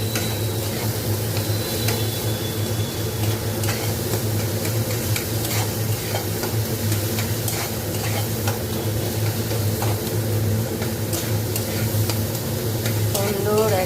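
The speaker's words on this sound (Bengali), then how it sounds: "আর একটু ঘেঁটে দিই ভালো করে।" Chopped tomatoes, salted and cooked down to a soft mush for pav bhaji, are stirred in a pan. A steady sizzle runs throughout, with scraping from the spoon close by and no talk.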